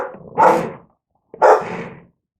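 A dog in a home kitchen gives two loud, close barks, each a short rough burst about a second apart, with no one talking over them.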